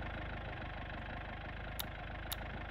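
Vehicle engine idling in the World War II game Gates of Hell, a steady low rumble with a regular throb that stays even and close, broken by two brief sharp clicks near the end, with no talking.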